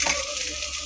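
Chow mein noodles frying in a pan, a steady bright sizzle that stays loud and even throughout, with no voices.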